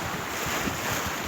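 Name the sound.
strong sea waves and wind at Dammam Corniche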